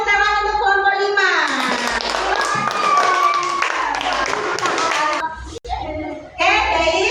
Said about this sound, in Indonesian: Beri tepuk tangan untuk kelompok 5.